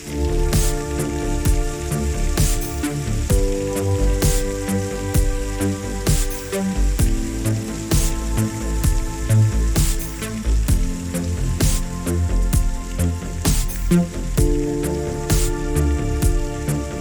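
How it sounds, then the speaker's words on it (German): Heavy rain patters on a roof over a small lodging near the Rio Canyoles in Spain, a dense continuous drumming with sharp individual drops and gurgling water, loud and close with no talk. "Der Regen prasselt auf das Dach und überall gluckert es"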